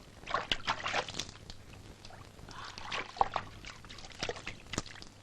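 Liquid poured out for a diner at a meal, a soft trickling and sloshing with a few brief splashes, fairly quiet and up close, with no talking.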